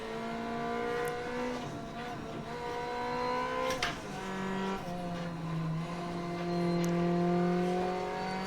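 A rally car in the Assetto Corsa Rally video game drives and slides, its engine droning and shifting pitch through gear changes at moderate level with no talk over it.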